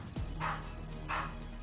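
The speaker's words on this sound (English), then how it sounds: "Sorry y'all, it's my dog." A pet dog barks twice, loud and close, spaced well apart over a steady room background with game audio faintly behind.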